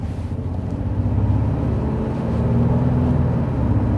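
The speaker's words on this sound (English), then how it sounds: "And look how much you can, look how much road noise you have." A steady low rumble of road noise inside a moving 2020 Honda Passport, dense and continuous, with no voices.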